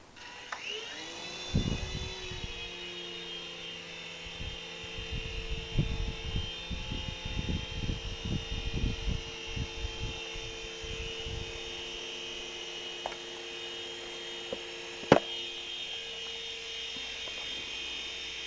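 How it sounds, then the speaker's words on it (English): A Brookstone Cloud Force toy helicopter hovers on its own with a steady, high electric rotor whine. Soft rhythmic thumps come early, and a brief sharp click sounds near the end, all close by and without talk. "I'm going to show you how she hovers"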